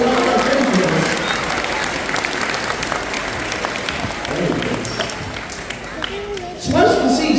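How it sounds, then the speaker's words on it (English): Audience at a sea lion show breaking into sustained applause, a dense wash of clapping from a crowd, with a voice speaking over it. "Give him a huge round of applause."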